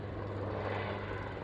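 Jet engine roar at an airshow as a South Korean Air Force Black Eagles aerobatic jet performs a maneuver, a steady, moderately loud rumble heard alone without talk.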